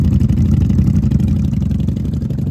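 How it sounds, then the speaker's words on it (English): A third-generation Honda Magna 750 VF750C idling with an unbaffled exhaust, giving a loud, close, deep rumble with rapid, regular pulsing that holds steady throughout. "This one's got a better rumble."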